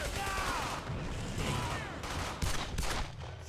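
Gunfire from a World War II shooter, Brothers in Arms: Hell's Highway, with a pistol in use during a squad firefight; loud, overlapping shots and battle noise fill the whole stretch, with sharper cracks near the end.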